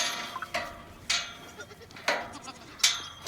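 A young bottle-fed goat on a farm bleats several times in short, close, fairly loud calls spaced apart, with quiet background between them.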